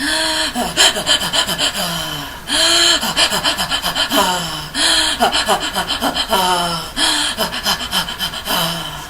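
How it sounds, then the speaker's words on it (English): Repeated voiced breaths, loud and close, each a noisy pitched inhale followed by a sighing exhale, in a steady rhythm of short phrases. "you're going to inhale and exhale on sound"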